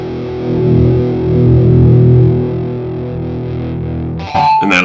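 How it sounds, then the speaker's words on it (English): Electric guitar driven through a Digitech Grunge distortion pedal into a power amp, heavily saturated sustained chords with thick low end ringing out, then a sharp new strum near the end. "It's kind of grungy. as you'd expect, with a pedal called the Grunge pedal."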